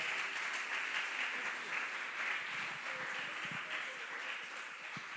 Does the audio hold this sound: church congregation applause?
yes